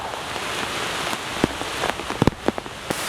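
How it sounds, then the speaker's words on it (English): Steady rain pours down in a WWII soldier's outdoor setting, a dense continuous hiss with louder drops pattering and splashing nearby on surfaces, no talking. "it is rainy out there"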